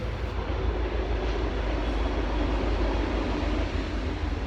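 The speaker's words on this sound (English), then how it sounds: "There's the train." A train rolls past on nearby tracks beside a walking trail, a loud, steady, low rumble holding without a break for several seconds, with no talk over it.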